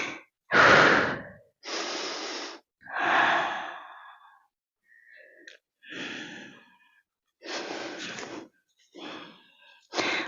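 A person breathes slowly and deeply during an intermediate yoga class, with long, loud, airy inhales and exhales in separate bursts and quiet pauses between them, close to the microphone.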